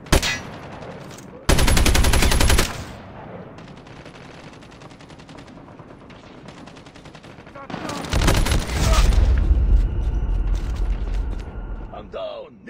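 Bursts of automatic gunfire in a Call of Duty Mobile match, two loud sustained volleys with quieter shots between, sounding alongside in-game voice callouts.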